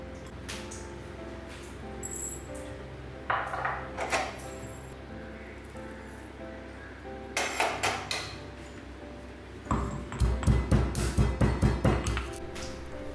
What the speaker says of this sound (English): I'll dry roast the spices and coarsely grind them.